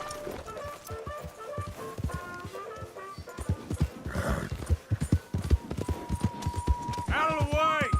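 A horse gallops in Red Dead Redemption 2, steady rapid hoofbeats clopping up close, then a loud whinny near the end, with a voice briefly over the hooves.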